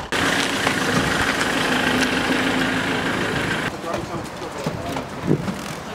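A Ford Transit 4x4 support and camper van with 88,000 km idles outdoors with a steady, close engine drone and wind noise on the microphone; the idle drops away partway through, leaving rustling and handling sounds.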